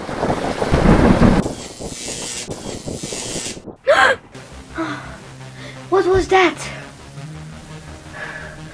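Heavy rain and a loud thunder rumble burst at the start, then fade into a softer patter while voices and gasps come through over the storm.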